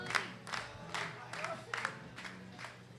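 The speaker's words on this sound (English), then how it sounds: "The crowd here, if you can hear the crowd" A crowd at a women's boulder climbing final cheers and shouts in rhythmic bursts, roughly every half second, like a repeated chant, heard from a middle distance under a commentator's voice.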